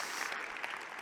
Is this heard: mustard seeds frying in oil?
no